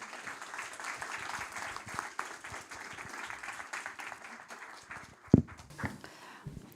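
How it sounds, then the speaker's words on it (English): Faint, diffuse applause from an audience at a briefing for panelists returning to their seats, a soft continuous patter heard from a distance, with one louder knock near the end. "invite you all to join me in a round of applause as they return"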